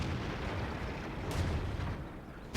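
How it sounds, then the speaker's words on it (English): An AMX 13 90 autoloading light tank gun in World of Tanks sounds as a continuous dense rumble of booming bursts, with a sharper crack near the middle, loud and close throughout. "Shooting at unsuspecting fools like that guy"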